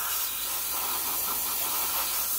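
An airbrush sprays touch-up paint onto a Honda motor, giving a steady, continuous airy hiss close up that holds unbroken throughout with no talking.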